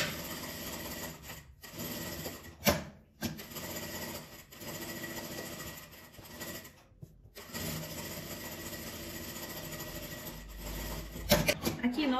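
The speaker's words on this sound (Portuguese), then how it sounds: "já vou costurar ele todo para unir o forro no tecido principal" A sewing machine stitches fabric lining onto the main fabric of a school pencil case with a close, steady mechanical whir, broken by a few short pauses and some handling rustle near the end.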